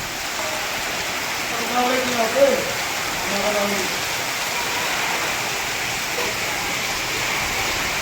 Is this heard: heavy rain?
yes